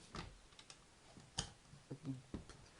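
Bipod legs of an M249 Para light machine gun clicking into their height positions, a few sharp close metallic clicks spaced irregularly with quiet gaps between.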